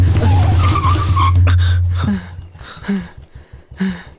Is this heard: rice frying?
no